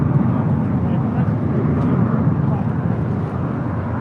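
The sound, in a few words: JetBlue Airbus A321 jet departing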